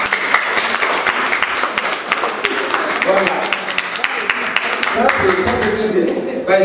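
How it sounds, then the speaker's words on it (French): An audience claps for older brothers and sisters, a lively burst of applause with sharp individual claps mixed with voices and cheers, sustained and close throughout. "Alors on applaudit les grands frères et les grandes sœurs."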